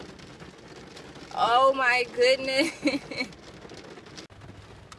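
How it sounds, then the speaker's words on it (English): Steady rain pours down during a summer outing, a broad hiss running throughout, briefly masked by a woman's loud exclamations in the middle. "Look at this rain."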